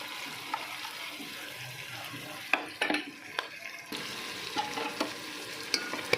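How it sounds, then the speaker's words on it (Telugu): Masala and onion frying in a pot for mutton biryani, a steady close sizzle broken by scraping stirs and clatter of a spoon against the pan. "మసాలా, దుబ్బ, ఆనియన్ అంతా కలిసిపోయేటట్టుగా చక్కగా వేగించేద్దాం దీన్ని"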